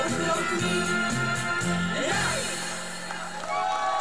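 A crowd cheers and whoops loudly after a choir's song at a concert, with shouts over a steady roar that fades slightly toward the end.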